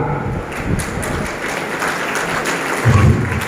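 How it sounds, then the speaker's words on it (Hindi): An audience at an Amway gathering in India applauds, a steady, fairly loud clapping that continues throughout with a low rumble near the end. "थोड़ा तालियों से मेरा हर्षवर्धन करिएगा"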